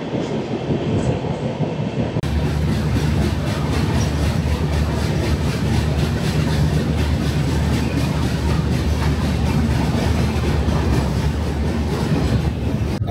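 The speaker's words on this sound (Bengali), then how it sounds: "এই আমাদের ট্রেন পার করছে আমবাসা স্টেশন।" Garib Rath Express train passing Ambassa station in Tripura, heard from on board as a steady loud rumble of wheels on rails with a low engine drone and faint rhythmic clatter, continuous and without talk.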